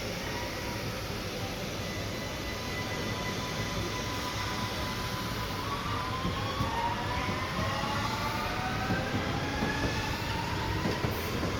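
A train heads out of Vienna toward Salzburg, heard from onboard as a steady rumbling roar with rail noise and faint rising wheel whines, continuous and even for the whole stretch.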